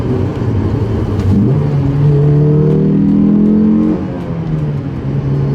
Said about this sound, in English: The engine pulls, it's very smooth, sounds amazing